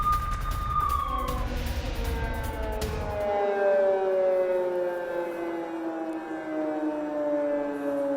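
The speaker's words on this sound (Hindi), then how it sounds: "पूरे यूक्रेन में वॉर सायरन सुनाई दे रहे हैं।" A wailing air raid siren sounds across the distance during a Russian missile attack on Ukraine, its long tone slowly sliding downward as a low rumble fades out beneath it.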